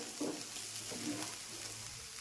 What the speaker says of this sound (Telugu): ఇంకొక రెండు మూడు నిమిషాలు మనం వేయించుకుందాం ఇలాగే